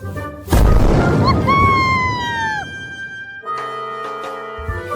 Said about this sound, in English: They throw their magic into the sky. Boom! A beautiful blast.